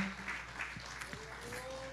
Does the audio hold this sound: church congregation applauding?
yes